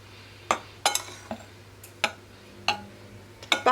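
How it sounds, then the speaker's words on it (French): A spoon mixing flour and salt for country bread dough in a bowl, giving sharp, separate clinks and taps against the bowl at irregular intervals, close and fairly quiet. "On mélange tout ça."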